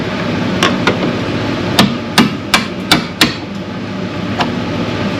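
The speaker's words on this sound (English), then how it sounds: "I'm gonna take my wedge deal and go in between the pinch weld and drive down through and start separating." About half a dozen sharp metallic hammer strikes drive a wedge into the pinch weld of a rusty 2002 Ford F350, spaced unevenly over a constant low shop hum.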